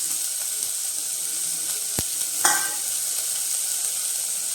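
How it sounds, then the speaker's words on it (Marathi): Onion, chilli powder, turmeric and finely chopped washed potatoes frying in a pan, a steady sizzle with a sharp click of a utensil partway through and a brief louder stir, no talking. "ते बारीक कापलेले धुऊन ठेवलेले बटाटे आपण ते पण यात घालून घेऊ"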